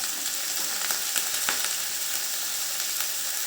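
Eggplant pieces fry in hot oil, a steady close crackling sizzle with scattered sharp pops throughout.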